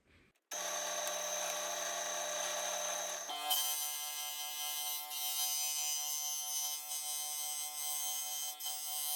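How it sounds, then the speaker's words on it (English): A small high-pitched drill whirs continuously, its tone shifting midway to a steadier, higher whine as it cuts through a leather pickguard. "I'm going to just drill a hole through it"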